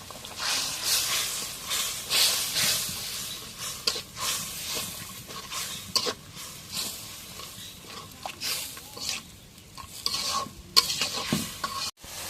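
Ginger and onion paste sizzles in a hot pan for a pangas fish and chickpea lentil dish, with repeated scraping stirs and bursts of hissing that rise and fall over about twelve seconds.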